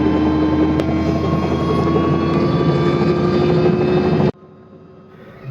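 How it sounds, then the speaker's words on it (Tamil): Helicopter setting down on a landing spot in Sri Lanka, a loud close rotor and engine roar with a steady drone that cuts off abruptly near the end, leaving a quieter background. "சாப்பர் வந்து லேண்ட் ஆகிடுச்சு"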